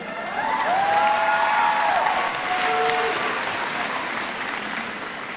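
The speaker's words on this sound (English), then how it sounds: "Please hold your applause till the end." An audience at a graduation ceremony breaks into sustained applause, a broad, even roar of clapping with a few whistles rising above it.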